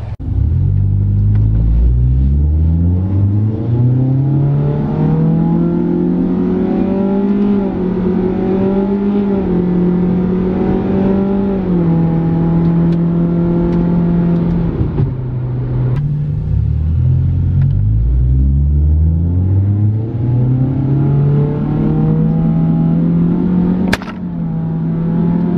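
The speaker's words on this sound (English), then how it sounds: "So first the fourth gear wide open throttle." Car engine pulling at wide open throttle in fourth gear on a highway, a loud, continuous droning roar whose pitch climbs steadily, dips at a shift around the middle, then rises again, heard from inside the car.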